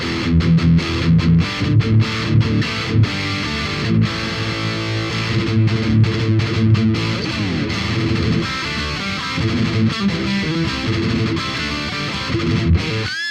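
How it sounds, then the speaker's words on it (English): Continuous distorted electric guitar playing through a Marshall Silver Jubilee amp and BOSS GT-1000, with chugging metal chords and riffs filling the clip at a steady, loud level. "So that's the sound of the amp."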